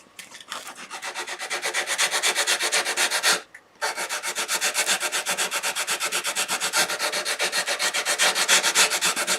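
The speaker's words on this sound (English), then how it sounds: "I need to take a little bit of sandpaper to that" Sandpaper rubbed back and forth along the edge of a wooden tray with compound angles, a close, loud and steady rhythmic scratching of even strokes with one brief pause, no talking.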